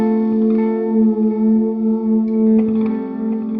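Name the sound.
electric guitar through Spaceman effect pedals and Sour Sound amp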